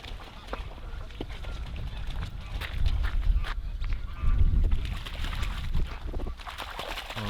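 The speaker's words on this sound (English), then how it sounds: "Look at all the geese." Geese honk by the water, a busy flock calling repeatedly at a moderate distance, mixed with outdoor noise and some sloshing.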